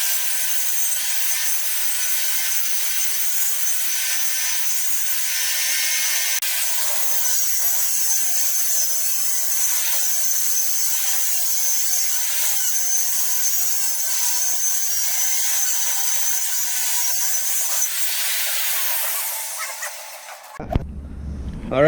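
A power saw rips wood boards for a doll bunk bed with a loud, steady whining roar that holds for about twenty seconds before cutting off abruptly. The saw is heard alone, close up, with no voices.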